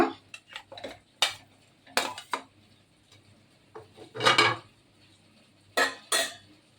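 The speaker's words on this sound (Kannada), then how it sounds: "गैस पर कुकर को रख के हम उसमें डालेंगे मटन." Mutton goes into a pressure cooker on a gas stove. Scattered sharp metallic clinks and clattering knocks ring out close by, some single and some in quick clusters, with short quiet gaps between them.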